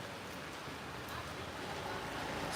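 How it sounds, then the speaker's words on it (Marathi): Night rain in Manvelpada, Virar, makes a steady, even hiss with no breaks, with no voices over it. "मनवेलपाडामध्ये पडला पाऊस"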